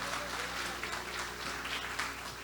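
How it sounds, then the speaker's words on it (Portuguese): A church congregation applauds the Lord during a Portuguese-language sermon, a steady wash of clapping heard from a distance and fairly faint, with no talk over it. "aplauda ao Senhor, bem forte"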